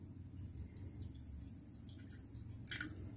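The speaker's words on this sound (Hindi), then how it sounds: "इसमें डालेंगे 1 ग्लास के करीब पानी" About a glass of water poured into an old kadhai in a home kitchen, a steady close splashing and trickling that runs throughout with no talk.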